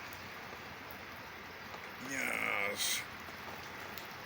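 Rain falling at night near old and new Cadillacs, a fine steady patter across the whole stretch, with a person speaking briefly over it partway through.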